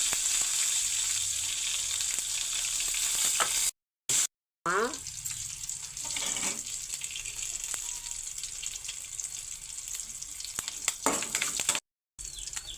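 Steady hot-oil sizzling and popping as mustard seeds and lentils fry, with a few brief gaps and faint clinks of stirring.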